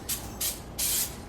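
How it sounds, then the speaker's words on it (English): Zero-calorie cooking spray hisses from a can into a pan on a stove over high heat, in three short bursts with the last one the longest, no voices. "0 calorie spray."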